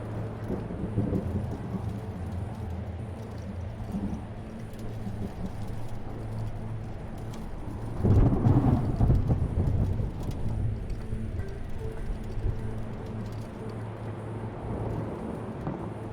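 Thunderstorm in a lunar ice storm in the video game Return to Grace: a steady low rumble of rain and wind runs throughout, swelling into a louder thunder roll around the middle before settling back.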